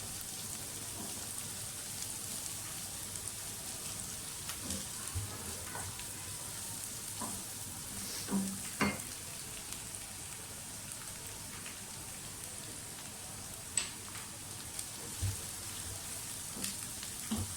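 Ingredients for a homemade pizza sauce fry gently in a pan, making a steady soft hiss like light rain with scattered small pops and ticks throughout, heard alone.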